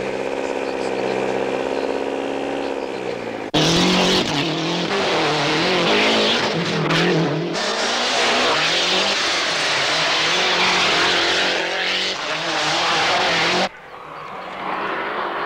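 Lancia Delta rally cars race at the Rally of Portugal, loud engines revving and roaring past close by in a continuous stream of passes.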